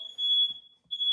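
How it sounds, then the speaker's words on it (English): A smoke alarm set off by smoke from bread baking in a Dutch oven sounds a loud, piercing high tone that cuts out briefly, then resumes. "Oh, we set the fire alarm off. Got a little smoky in here."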